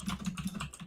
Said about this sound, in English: I was just typing the poll.